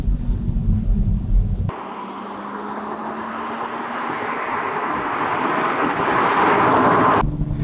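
A 2023 Toyota GR Supra sports car with 382 horsepower drives along, its engine and road roar loud and steady for several seconds with no talk.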